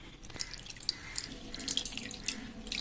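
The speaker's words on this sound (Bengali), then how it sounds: "এইভাবে ঠান্ডা জল দিয়ে ধুয়ে নেব ছানাটাকে, যাতে না ভিনেগারের কোনো টক ভাব থাকে" Cold tap water running and splashing over chhana, cottage cheese curds, in a sink, a steady soft stream with small drips and splatters, fairly quiet and close, no voices.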